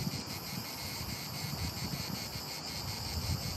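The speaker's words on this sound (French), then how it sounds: "La nature, le chant des cigales" Cicadas sing outdoors in a garden with small tomato plants and a light breeze, a dense, steady buzzing drone that runs continuously throughout, fairly close and even in loudness, with no voices.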